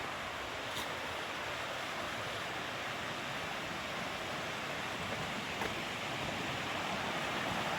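Rushing creek water at a crossing on the Appalachian Trail in the Great Smoky Mountains, a steady broadband roar of flowing water close by, loud and unbroken throughout with no voices.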